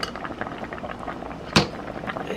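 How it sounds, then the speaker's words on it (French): Congolese broth of salted fish, dried mushrooms and shrimp boiling in a pot, a steady bubbling hiss throughout with one sharp clink of metal partway through. "Ça va bouillir un peu."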